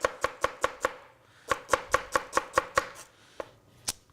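A sharp kitchen knife chops fast on a cutting board in quick, crisp bursts of evenly spaced knocks, two runs of rapid strokes with a pause between, close and clear with no talking.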